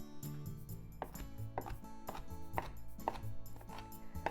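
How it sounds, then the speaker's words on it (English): Knife chopping shrimp tempura into small pieces on a board, a steady run of sharp, evenly spaced cuts about twice a second, close and clear with no talk. "Let's cut it into small pieces so that you have shrimp in every bite."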